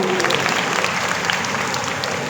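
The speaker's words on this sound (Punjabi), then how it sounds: "ਜ਼ੋਰਦਾਰ ਤਾਲੀ ਸਾਡੀ ਭਾਬੀ ਜੀ ਵਾਸਤੇ" A large crowd of women at a Teeyan fair in a grain market gives sustained, dense applause, loud and even throughout with a faint crowd murmur beneath.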